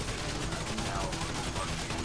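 Continuous rapid Tommy gun fire in Grand Theft Auto V, a dense, loud, unbroken burst of shots.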